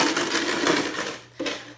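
Coins rattle inside a homemade penny shaker in a short continuous shake lasting over a second, then a single brief clink follows, close and moderately loud.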